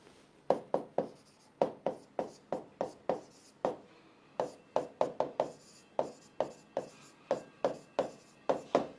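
Chalk or marker strikes a board in quick, close bursts of scratchy strokes, with short pauses between words as a chemistry definition is written out.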